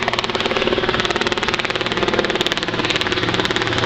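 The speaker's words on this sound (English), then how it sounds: "That's a helicopter flying over." A helicopter passes overhead on a farm, its steady rhythmic blade chop and engine drone loud and continuous throughout, with no talking.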